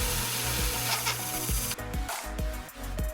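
An Atlas milling machine with a 3 by 1/2 inch high-speed steel cutter machining softwood lumber, giving a steady close mechanical whir and rhythmic repeated cutting thumps with a rougher, brighter shift partway through.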